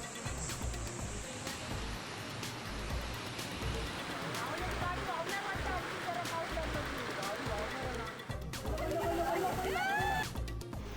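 Rushing floodwater after a cloudburst in Mulshi turns the Lavasa road into a river, a steady loud roar of churning water running throughout with faint background noise.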